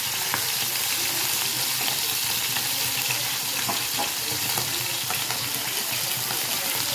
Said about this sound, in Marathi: दोन्ही साईडने चांगलं भाजून घ्यायचं